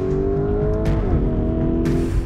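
A 2019 Lamborghini Urus SUV is driven hard through a corner. Its engine drones loud and close, the pitch dips midway, and two brief hissy bursts cut through.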